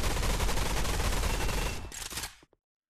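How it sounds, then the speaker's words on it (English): Rapid continuous gunfire from dual Uzis in the video game Gun Raiders, a dense loud burst of automatic shots lasting about two and a half seconds before cutting off abruptly. "my favorite gun right now is actually the dual Uzis. Just watch."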